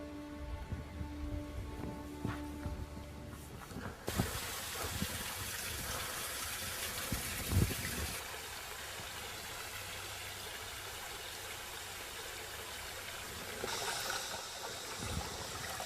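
Water flowing in a stream with shifting flow patterns, a steady broadband rush that swells louder after the first few seconds and holds constant with no voices.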